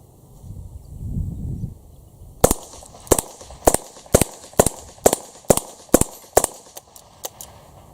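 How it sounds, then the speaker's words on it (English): Alfa Proj revolver carbine emptying its cylinder at a square steel target outdoors, a series of about eight to nine sharp, loud shots at a steady pace, each with a short ringing tail, following a brief low rumble. "we're just going to do a cylinder dump on the square steel target over there"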